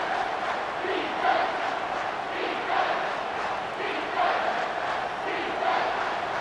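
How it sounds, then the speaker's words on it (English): Stadium crowd roaring in a college football video game, Stanford at Alabama on third down, a steady loud wash of voices that swells in waves over the whole stretch. "decibels rising as the crowd gets behind this defense on third down"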